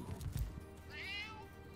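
A cat meows in the video game Divinity: Original Sin, a single clear drawn-out meow after a short thud of game noise, fairly quiet against a soft background.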